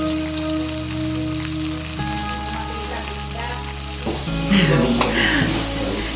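Fish frying in a pan in a home kitchen, a steady close sizzle under clattering and other kitchen noises, with a burst of louder spattering and scraping near the end.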